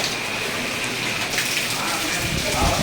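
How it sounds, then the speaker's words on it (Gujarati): Heavy rain pours down in a dense, steady hiss, close by and continuous, with no pauses, where a car is stuck in mud. "આટલા વરસાદ વરે છે"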